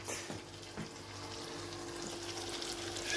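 Kidney beans being stirred in a pan with sauce and pepper paste, a low continuous fry under scraping spoon strokes and occasional knocks, fairly quiet and close.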